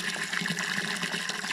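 Water gushes from a garden hose into a barrel being filled for dandelion macerate, a steady close hiss of pouring liquid that runs without a break and with no voices.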